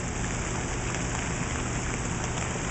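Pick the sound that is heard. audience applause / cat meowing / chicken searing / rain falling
rain falling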